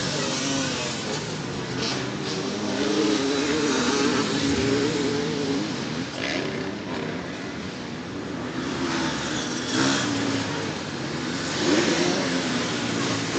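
Racing cars pass by during the final laps, a continuous engine drone rising and falling as cars accelerate past one after another, with a voice talking over the noise.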